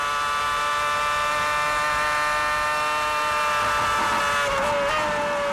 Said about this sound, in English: That's just a gear change, no brake.